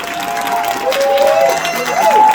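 Audience at a cannabis expo claps and cheers briefly during a name call, a short burst of crowd applause with some voices mixed in.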